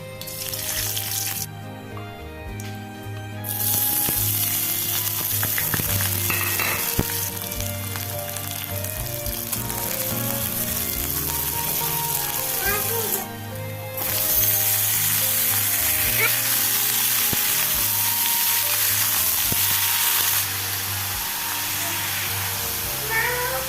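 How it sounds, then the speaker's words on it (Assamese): Vegetables sizzle steadily in a hot pan, a continuous frying hiss with occasional light clatter. "প্ৰথমে মই ভাজিখিনি বনাই লৈছোঁ"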